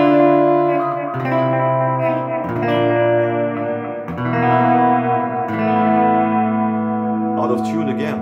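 A 1996 Rickenbacker 330 electric guitar on its middle pickup position strums a series of ringing, chiming chords with a shimmering, effect-laden tone. The chords change every second or two and sound loud and close.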